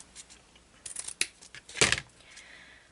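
Scissors snip through material for a Christmas headband, making a few close, crisp cuts with a longer, louder slicing stroke near the end, alone without talk.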